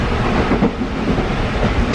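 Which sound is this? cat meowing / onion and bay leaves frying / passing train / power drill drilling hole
passing train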